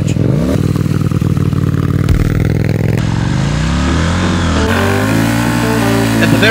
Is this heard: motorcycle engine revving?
yes